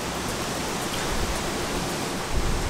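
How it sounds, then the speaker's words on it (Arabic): Steady rain falls outdoors at night in New Zealand, a dense, even hiss without pauses and a slight thump near the end. "دي مية المطر، المطر كان شغال كل ليل."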